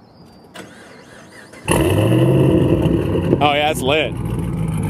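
A twin-turbo Camaro's engine starts up loud and steady after a quieter stretch and keeps a strong running roar, with turbo whistling, close by, while people talk over it.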